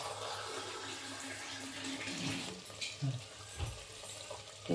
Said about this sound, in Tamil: இப்போ நான் அந்த மிக்சி அலம்பி தண்ணி ஊற்றுறேன்